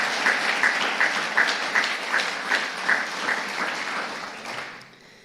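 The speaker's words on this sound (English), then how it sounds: "Once again, let's give a round of applause to all the award winners" Applause from an audience at an annual historic preservation awards ceremony honoring award winners, a dense steady roll of many hands clapping that holds strong for about four seconds and then fades out.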